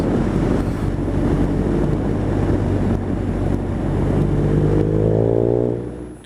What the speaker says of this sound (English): it sounds as good as you can ever get from a 1200 GS